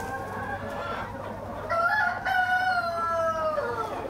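Large 16-month-old Tiger breed hens cluck and call on a farm. A rising, drawn-out rooster-like crow stands out over steady nearby clucking.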